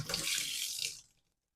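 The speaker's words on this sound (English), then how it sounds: "I will continue to rinse it with hot water until all the bubbles have disappeared and I'm just running clear water" Hot tap water runs and splashes while rinsing a Pinter 3 beer dock in a sink, a steady close rush that stops abruptly after about a second, leaving silence.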